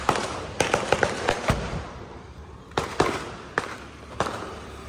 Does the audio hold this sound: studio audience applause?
no